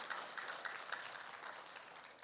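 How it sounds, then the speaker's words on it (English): Faint, steady applause from an audience at an elementary school awards ceremony for a fourth grade honor roll, soft clapping heard from a distance without talk. "let's applaud fourth grade Amaya"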